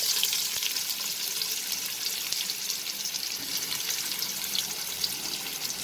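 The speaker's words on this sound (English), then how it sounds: "Once the ghee melts in the pan, so now I will add half sliced onion to my pot." Sliced onion frying in melted ghee in a pot, a steady close hiss and crackle of sizzling that runs throughout with no talking.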